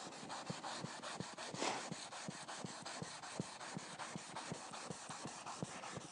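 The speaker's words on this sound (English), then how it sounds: "the sandpaper is kind of sliding all over the board at this point" Sandpaper rubs back and forth across a wooden board during an oil-sanded finish, a rapid steady rasping rhythm of short strokes, close and even, with no voices.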